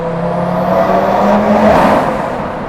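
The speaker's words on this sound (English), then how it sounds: "One more downshift." Modified Audi RS3 engine revving hard through a downshift, a loud, sustained close-up roar with a rising then falling pitch, heard from inside the car with no talking.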